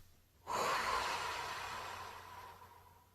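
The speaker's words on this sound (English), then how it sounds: "Take a deep breath." After a short quiet moment, a single long, audible breath draws in and trails off slowly over about three seconds during a tapping exercise for pain relief. No one speaks.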